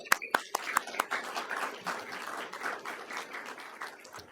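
An audience at a panel event on Alexis de Tocqueville in America applauds the panelists: a few sharp claps at first, then steady, dense clapping that holds throughout.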